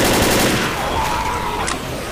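Rapid, sustained machine gun fire in Left 4 Dead rattles continuously and loudly through the whole stretch, with no break in the bursts.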